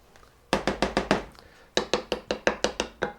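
Three farmers-market eggs being beaten with a spoon in a bowl: two quick bursts of rapid, sharp clinking strokes, about six in the first run and nine in the second, close and clear with a short pause between.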